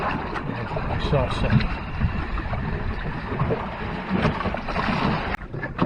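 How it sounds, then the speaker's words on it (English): Steady wind rushes and buffets across the microphone aboard a trimaran under sail, with water wash beneath and brief speech over the continuous noise. "There, the wind just picked up."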